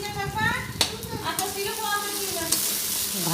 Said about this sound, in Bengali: এরপর আমি আদা, রসুন, কাঁচা লঙ্কা পেস্টটা দিয়ে দেবো।